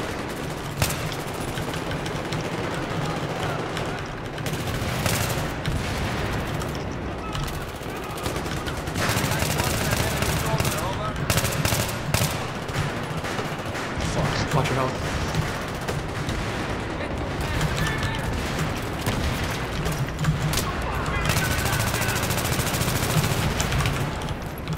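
Rapid bursts of auto pistol fire in a Battlefield 3 match, loud and dense, crackling steadily across the whole stretch with short pauses and game noise underneath.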